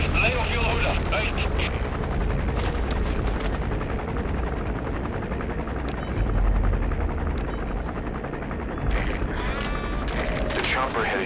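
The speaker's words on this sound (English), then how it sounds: "The chopper will be arriving any minute." A helicopter arrives in the video game Metal Gear Solid V: The Phantom Pain, with a loud, continuous rotor drone throughout, mixed with bursts of gunfire and voices talking over it.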